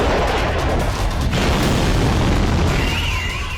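Iranian missiles explode over Israel in a dense, sustained barrage of booms and rumbling blasts, loud and continuous without a break.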